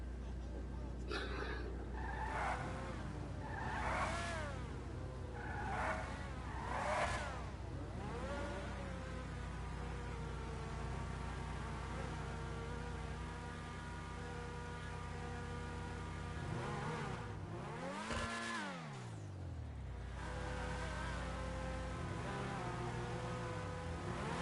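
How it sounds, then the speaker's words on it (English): Racing car engines in GTA V Online rev and whine together at a race start, a dense buzzing drone with repeated swells and a sharp rev sweep near the end, under steady commentary talk. "Engine revs beginning to build."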